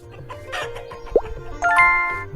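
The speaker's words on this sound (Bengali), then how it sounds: "সামনে একটা মুরগি মুরগিগুলো ডিম দিচ্ছে আমার" Chickens clucking in the Meena video game, a short burst of cartoonish hen clucks and squawks with a sharp pop midway and a brighter tonal chirp near the end, clear and close, no talking.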